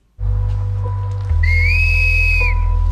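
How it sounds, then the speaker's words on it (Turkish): A clear, loud sustained whistle in bird language from a Turkish film, holding one pitch for about a second, over a steady low rumble. "Kuş dili konuşan Sibel karakterinin film boyunca ıslık çala çala kafanızı şişirdiği Sibel filmine yolunuz düşmediyse bile"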